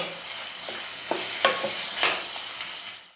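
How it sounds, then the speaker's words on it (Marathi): Chopped tomatoes frying in pav bhaji masala in a pan, a soft steady sizzle with several stirring scrapes and clinks of a spoon, close and alone. "आता यात कापून ठेवलेला टोमॅटो टाकते टोमॅटो मऊ होईपर्यंत शिजून घ्यायचा"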